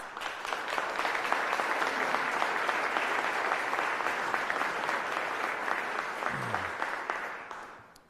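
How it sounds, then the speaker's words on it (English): Sustained applause for county employees at a county executive's budget address, steady clapping from a large audience lasting several seconds before fading out. "please give them a round of applause"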